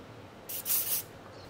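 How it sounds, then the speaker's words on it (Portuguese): Hairspray is sprayed onto braided hair, a single short close hiss of about half a second. "Agora a gente vai jogar um pouquinho de spray"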